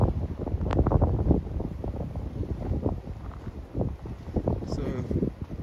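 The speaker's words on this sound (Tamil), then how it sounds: "காற்று ஓவராக இருக்குது." Strong gusting wind roars through a heavy snowstorm in Toronto, Ontario, a steady dense rushing with buffeting on the microphone, while someone speaks over it throughout.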